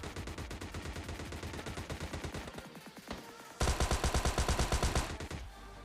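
Rapid gunfire bursts in the mobile battle royale game PUBG Mobile Lite, dense repeated shots that jump in loudness midway through, with no voice over them.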